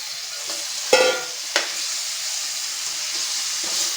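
Onions frying in a pan as tomatoes are tipped in, a close steady sizzle broken by two sharp bursts as the pieces hit the hot oil, then an even hiss with no talk.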